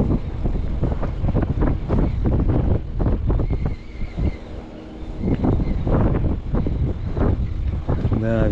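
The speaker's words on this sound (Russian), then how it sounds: "Да, ветрило раздувает." Strong wind buffets the microphone on a riverbank of the Oka near Stupino during spinning fishing, a loud, continuous rumbling roar with gusty surges.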